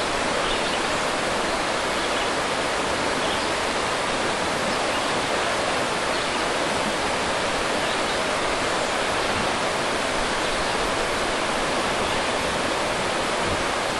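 River rapids in Pennsylvania's Big Ditch give a loud, steady, broadband rush of churning water, close and continuous with no talk.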